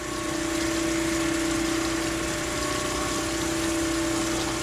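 A crankshaft grinder works on a Farmall Super C crankshaft, giving a steady mechanical whine with an even grinding hum underneath, constant and close with no talk.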